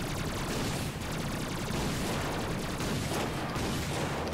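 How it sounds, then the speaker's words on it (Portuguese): Rapid gunfire blasts at a spaceship in the Ratchet and Clank video game, a dense, continuous barrage of loud shots with no pauses and no talk. "Que dá tiro na nave?"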